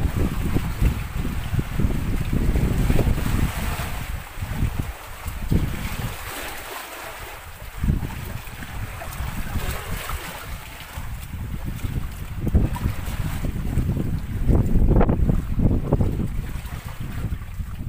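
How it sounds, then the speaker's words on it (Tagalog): Strong, steady northeast monsoon wind (amihan) roars and buffets the microphone outdoors by the sea, with a low rumble that surges and eases over the recording. "medyo mahangin dahil amihan na po ngayon"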